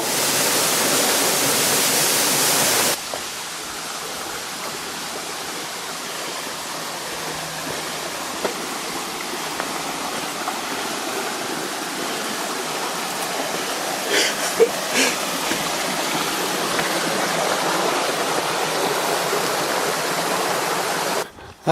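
A waterfall on a Welsh coastal path gives a steady rushing hiss close by, opening with a louder burst of spray before settling into an even roar for the rest.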